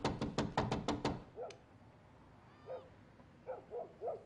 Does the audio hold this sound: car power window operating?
no